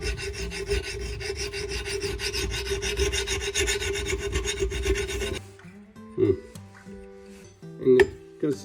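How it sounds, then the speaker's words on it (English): A metal file drawn crossways across a workpiece in draw filing, giving a loud, rhythmic rasp for about five seconds, followed by a few sharp metallic taps and clinks. "There's a thing called draw filing where you go crossways like this."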